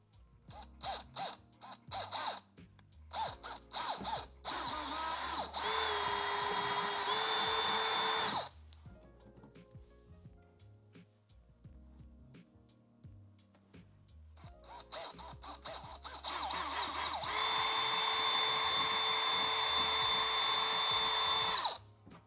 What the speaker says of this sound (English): make sure when you drill, go all the way through so that you can also grab that fender liner